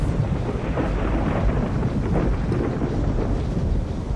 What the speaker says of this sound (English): I hope this storm doesn't get any worse.